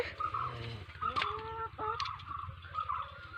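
Several chickens cluck and murmur nearby in a coop in short bursts, a couple of sharper squawks standing out over a quiet background.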